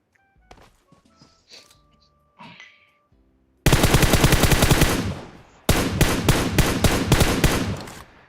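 Gunfire from the PUBG Mobile video game erupts after a few quiet seconds of faint voices and soft thumps: two loud, rapid automatic bursts, the second following a short gap, each run of shots close and dense.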